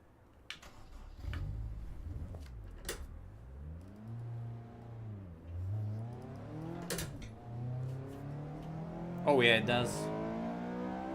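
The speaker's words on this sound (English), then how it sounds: "that shift to VTEC is fucking amazing" A Honda VTEC engine in the Assetto Corsa Evo video game revs up and down through several gear shifts, its rising and falling tone climbing hard near the end. Someone speaks briefly over it.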